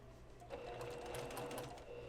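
A sewing machine stitches quilt blocks together, its steady close motor whir running continuously for a couple of seconds with no talking.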